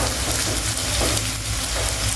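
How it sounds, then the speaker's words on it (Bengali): Teluchcha (ivy gourd) leaf fritters deep-frying together in hot oil, a loud, dense, steady crackling sizzle that fills the sound without a break. "গরম তেলে সবগুলো একসঙ্গে ভেজে নিচ্ছি।"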